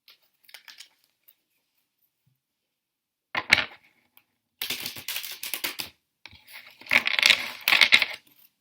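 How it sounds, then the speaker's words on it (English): Tarot cards being shuffled by hand in short bursts of crisp riffling and flicking, near and fairly loud, separated by silent pauses, with no talking. "Let's shuffle these cards"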